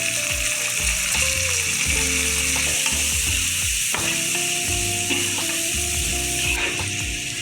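Carrots go into a hot pan for a flattened-rice pulao and sizzle loudly and steadily, with occasional clinks and scrapes of a utensil against the pan.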